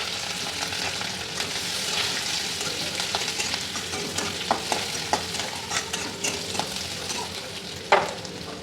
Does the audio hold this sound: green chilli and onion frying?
yes